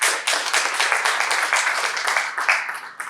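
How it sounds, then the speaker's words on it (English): Applause at a Toastmasters club meeting for the Toastmaster of the day, dense clapping from a group sustained through the clip, close and fairly loud. "Let's give a round of applause to our TMOD of the day, Toastmaster Aadil Kadri"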